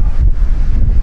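Strong wind gusting through a forest along gravel roads in Urjala, Finland, a loud, low roar buffeting the microphone with no pauses.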